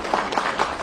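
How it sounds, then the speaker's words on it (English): Audience applause at a political governance reform discussion: dense, continuous clapping from a crowd, moderately loud and steady through a brief burst. "A round of applause for him again."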